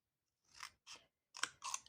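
Scissors snip paper at an angle while making a scrapbooking box: four short, quiet, close cuts with brief pauses between them.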